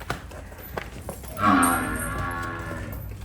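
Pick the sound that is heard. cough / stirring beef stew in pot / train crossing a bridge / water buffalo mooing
water buffalo mooing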